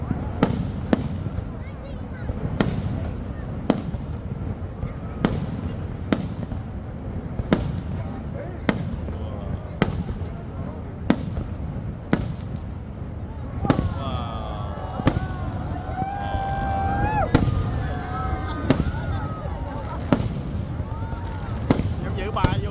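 Fireworks explode over Niagara Falls in a long series of sharp booms at fairly even intervals, some distance away, with a rumbling background of crowd and water and people talking between the bursts.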